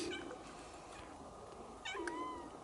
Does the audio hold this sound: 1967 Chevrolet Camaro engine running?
no